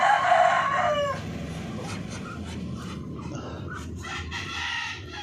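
A large chocolate Orpington rooster crows loudly up close, then gives softer clucks and low calls against a steady background hum.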